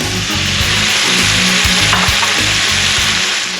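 Peeled, deveined shrimp sizzle loudly in a hot pan, a bright, dense frying hiss with crackling, steady and close for the whole stretch, with a low rhythmic rumble beneath.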